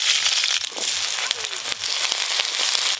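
Potato and taro frying in mustard oil, with eggplant to follow: loud, close, continuous sizzling hiss with crackles and pops throughout.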